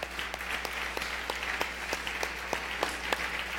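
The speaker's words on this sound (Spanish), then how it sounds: "Un aplauso fuerte a Jesús" Audience applause at a church conference gathering, a steady wash of many hands clapping at moderate distance with a low constant hum underneath, continuing evenly throughout.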